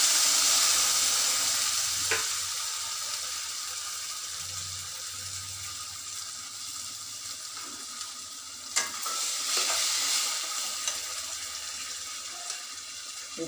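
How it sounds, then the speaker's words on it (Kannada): Tomato puree goes into a hot pan for pav bhaji, giving a loud, continuous close sizzle that slowly settles, with a few faint stirring knocks and scrapes and no talking. "ಈಗ ಟೊಮ್ಯಾಟೊ ಪ್ಯೂರಿ ಹಾಕ್ತಾಯಿದ್ದೀನಿ."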